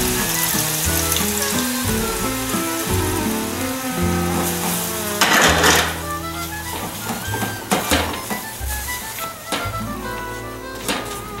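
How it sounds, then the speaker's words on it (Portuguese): Dough frying in hot fat in a pan, a steady sizzling hiss mixed with tonal background music, with a louder crackling surge about midway. "Agora eu vou ligar a panela com gordura para a gente pôr para fritar."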